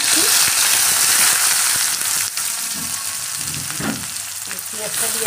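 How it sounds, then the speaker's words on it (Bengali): Onions frying in a kadai over whole dried chillies, bay leaf and cumin seed, a steady close sizzle and crackle filling the clip with a few soft stirring knocks. "পেঁয়াজটা ভাজা ভাজা হবে, লাল লাল করে একটু ভাজা হবে পেঁয়াজটা"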